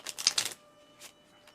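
A deck of playing cards being shuffled at a tabletop roleplaying game, a quick close burst of riffling clicks followed by a couple of faint soft card sounds.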